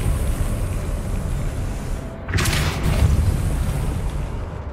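The Depulso spell is cast in Hogwarts Legacy, a sudden bright whooshing burst with a booming thump cutting through low game ambience midway.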